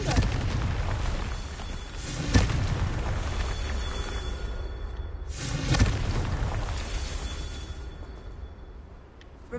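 Fiery Confringo spell blasts cast in the video game Hogwarts Legacy, two booming bursts about three seconds apart over a dense rumbling game soundscape, loud and close.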